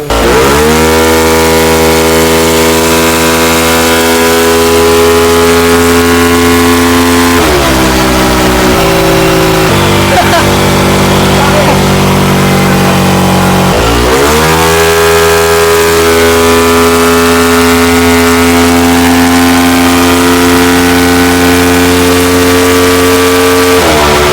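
A Yamaha Aerox scooter engine revs loud and steady on a dyno, a sustained high-pitched drone that dips briefly in the middle before climbing back to full revs.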